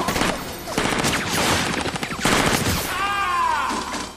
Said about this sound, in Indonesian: Dan baku tembak berikutnya benar-benar gila.